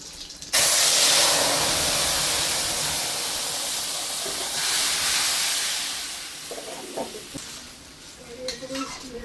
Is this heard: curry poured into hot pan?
yes